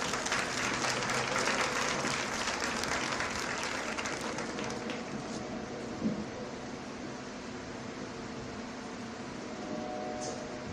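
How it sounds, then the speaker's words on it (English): Sustained applause from an audience at an eighth grade recognition ceremony, a steady broad wash of clapping that holds at even loudness and fades slightly toward the end, with no talking over it. "Let's give him a nice round of applause"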